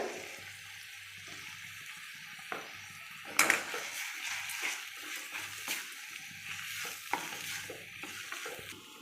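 Tomatoes sautéing in a pan with rock salt for a Tamil okra pulikari, a soft steady sizzle broken by several sharp scrapes and knocks of a spoon stirring against the pan.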